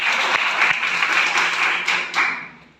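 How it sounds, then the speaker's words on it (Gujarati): An audience claps together at a marketing business meeting, a dense burst of applause that swells and fades, close and fairly loud. "સાહેબ માટે એકવાર જોરદાર તાળી"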